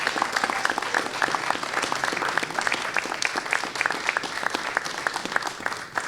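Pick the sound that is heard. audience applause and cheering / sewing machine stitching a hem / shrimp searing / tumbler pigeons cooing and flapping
audience applause and cheering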